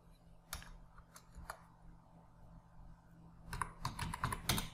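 Computer keyboard typing while an online Tamil Nadu smart ration card application form is filled in: scattered, irregular key clicks that bunch into a denser, louder burst toward the end, close and without talk.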